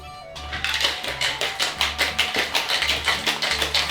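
A cocktail shaker holding Baileys and Jameson Black Barrel whiskey is shaken hard with ice, producing rapid rhythmic rattling bursts, close and loud, repeating steadily for several seconds without speech.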